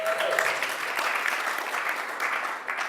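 Steady applause from a seated audience at a happiness-themed talk, broad and sustained for the whole stretch with no pauses, a dense wash of many hands clapping together at close range.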